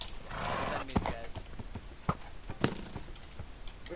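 Horse hooves clip-clop at a walking pace in a video game, a handful of sharp knocks scattered over a low background hum, moderately close.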